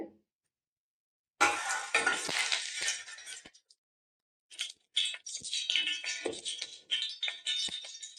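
Panch phoron spices dropped into hot oil for a bottle gourd and puti fish dish crackle into a bright hissing sizzle after a short silence, then fade and flare up again in a second burst.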